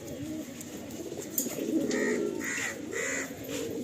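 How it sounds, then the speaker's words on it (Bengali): Giribaj pigeons coo in a loft in Tollygunge, soft repeated throaty coos rising and falling over a faint background, with a few brief higher calls mixed in. "এত বিউটিফুল হয় এই পায়রাগুলো"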